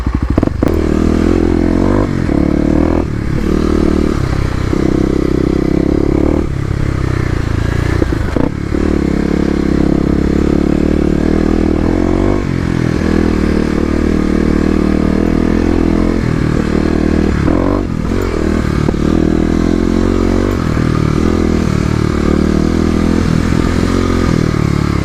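A stage 1 Kawasaki KLX250 dirt bike runs along off-road OHV trails, its engine droning loud and close with repeated rises and dips in revs, plus rattles and scrapes from the terrain.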